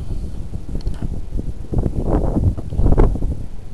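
Strong wind gusting outdoors, a steady broadband roar buffeting the microphone with louder surges toward the end, continuous throughout with no talk.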